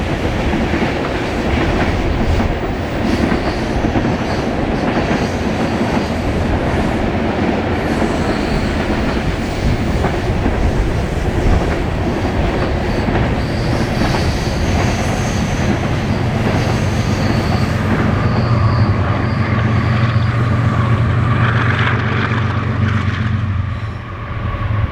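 A long freight train of brown hoppers rolls past steadily in the Columbia River Gorge, wheels clattering on the rails with a constant rumble and occasional metallic squeal toward the end.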